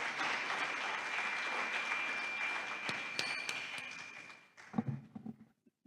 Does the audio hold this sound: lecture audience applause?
yes